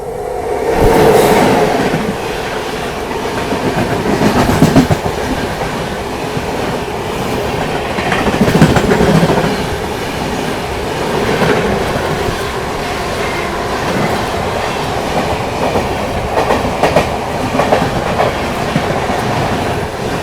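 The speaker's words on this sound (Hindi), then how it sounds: "सामने से आ रही है सिकंदराबाद मुंबई दुरंतो एक्सप्रेस" The Secunderabad Mumbai Duronto Express rushes past in the opposite direction, heard from inside a Pune Hyderabad Shatabdi Express slowing near a junction, with loud continuous rumble, rhythmic clickety-clack of wheels and brief metallic squeals throughout.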